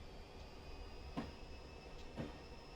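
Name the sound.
Caltrain train slowing down onto siding, Train Simulator 2020 video game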